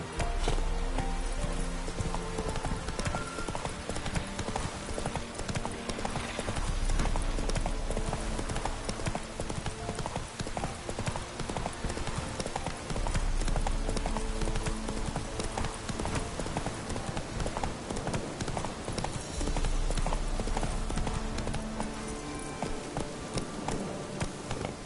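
Horse galloping in The Witcher 3, rapid rhythmic hoofbeats clip-clopping steadily and close for the whole stretch, with game music underneath.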